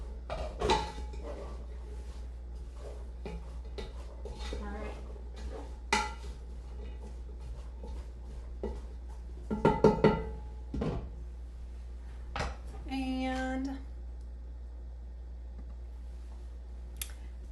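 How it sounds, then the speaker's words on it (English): Potato corn chowder stirred in a kitchen pot, faint scattered clinks and scrapes of a utensil against the pot in irregular bursts, with one brief louder clatter near the end. "So let's just stir this up."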